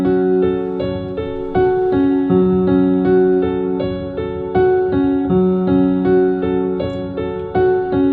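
A synth melody preset called Wonderland from the Palace kit plays a busy, many-note line with steady rhythmic phrasing, loud and clear with no voices.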